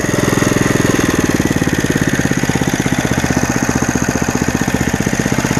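A 1961 Porter Cable model 98 rototiller's small engine idles steadily and loudly up close, its rapid even chugging pulses continuing alone without any talk.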